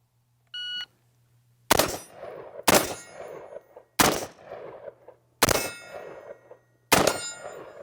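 Gunshots ringing off steel targets on a shooting course: a short electronic start beep, then five sharp, loud shots spaced about a second apart, each followed by a bright metallic clang and ringing decay.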